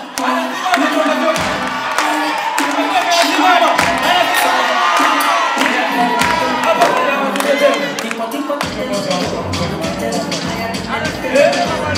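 Loud crowd clapping and cheering at a live event, dense sustained applause with whoops and shouts throughout, mixed with voices.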